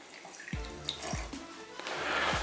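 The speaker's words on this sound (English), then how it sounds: "And then I'm gonna add my warm water." Warm water is poured into a bowl of dry yeast for chocolate-filled donut dough, with a quiet, steady splashing and gurgling stream under a few soft knocks in a kitchen.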